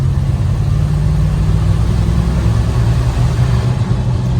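The engine of a 1955 Chevrolet truck pulls hard as it accelerates through a turn, a steady, close, rough mid-range drone with no voices over it.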